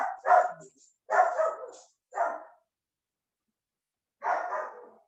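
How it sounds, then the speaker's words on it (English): A Jack Russell terrier barks in the background in a few short bursts separated by pauses, with a gap of quiet before a final bark, fairly close but not loud. "My dog is in the background barking"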